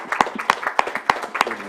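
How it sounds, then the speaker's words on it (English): A board of supervisors meeting room breaks into a round of applause, a steady run of sharp, fairly close hand claps with rhythmic peaks throughout, without talk over it. "we'll give one more round of applause to everyone"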